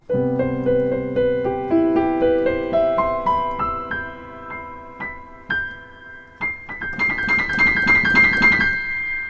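A piano plays a rising melodic run of single notes in a steady rhythm, ending in a fuller cluster of ringing notes, with no talking.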